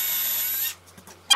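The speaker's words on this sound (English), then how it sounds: "I'm going to take my drill and just drill a pilot hole." A power drill whirs steadily while boring a pilot hole in a board for a nail, then stops abruptly, followed by faint handling noises and a short scrape.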